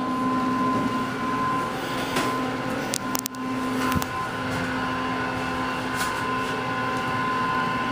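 An Otis Series 1 hydraulic freight service elevator installed in 1995 at Interchange Plaza 2 runs with a steady low hum and a constant mechanical drone, with a brief clunk partway through and no talk.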